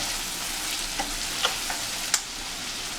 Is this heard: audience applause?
no